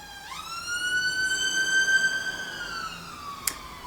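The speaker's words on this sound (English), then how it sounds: "Sorry for the sirens." An emergency vehicle siren wails loud and steady nearby, one long rising and holding tone that sweeps through the scene, ending with a brief sharp click.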